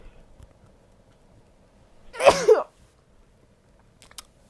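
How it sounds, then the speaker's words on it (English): A single sneeze bursts out around the middle, loud and close, with near silence before and after and a faint click near the end. "hold on, I gotta sneeze"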